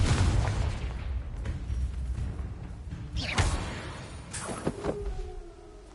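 Confringo blasting spell from Hogwarts Legacy bursts into booming explosions, with two loud whooshing blasts a second apart over a rumbling backdrop that gradually fades.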